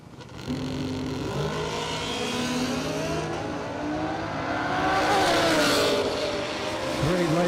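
A high-gear-only drag race car accelerates down the track, a loud sustained engine roar whose pitch rises steadily without gear shifts, heard from a distance amid track ambience, with an announcer talking over it.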